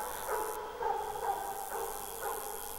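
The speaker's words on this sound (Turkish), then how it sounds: "Köpek sesi." A few short dog barks in the video game Five Nights at Freddy's 4, repeated at a steady pace over a constant electronic background hum, moderately loud.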